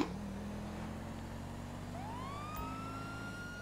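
Police car siren in GTA V Online, rising into a steady wail partway through over a constant low engine drone, fairly loud and close, with no talking.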